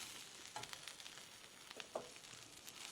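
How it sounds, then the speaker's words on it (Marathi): Mint leaves fry in spice masala in a pan, a soft, quiet sizzle with faint crackles and stirring scrapes running steadily throughout, no voices. "पुदिना पण व्यवस्थित मसाल्यांमध्ये परतून घेऊ"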